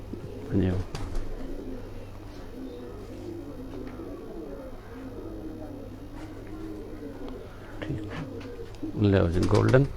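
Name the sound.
Kasuri pigeons cooing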